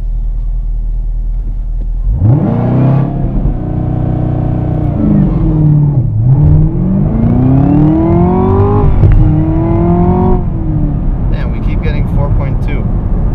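A 2017 Camaro ZL1 with a manual gearbox launches hard from a standstill using launch control, its loud engine note climbing through several rising sweeps with brief dips at each upshift, close and dominant throughout.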